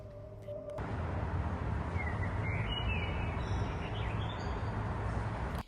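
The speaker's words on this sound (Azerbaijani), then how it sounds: "quş səslərini ümid edirəm eşitmisiniz" Birds sing outdoors on a pleasant day in Baku, a few thin chirps and whistles rising faintly over a steady broadband background hum that runs through the whole stretch.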